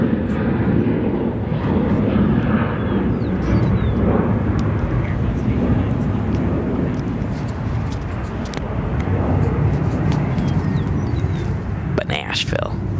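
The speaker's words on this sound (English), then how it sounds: "United Airlines Airbus A319 arriving from Nashville." A United Airlines Airbus A319 arriving at a busy airport gives a steady, low jet rumble with traffic-like background noise throughout.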